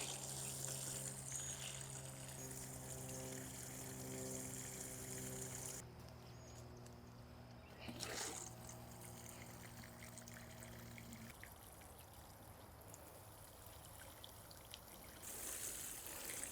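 Water trickles steadily as a summer vegetable garden is watered by hand, a continuous soft flow with a low hum running beneath it.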